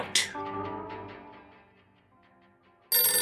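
A telephone rings in a comedic audio drama, a repeating bright electronic ring that sounds out loud, then fades, before another burst cuts in at the end.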